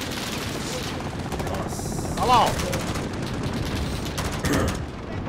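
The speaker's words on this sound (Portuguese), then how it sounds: "É muito tiro, velho." Rapid gunfire rattles in Call of Duty Modern Warfare, dense bursts of shots and booms heard through game audio while someone speaks briefly over it.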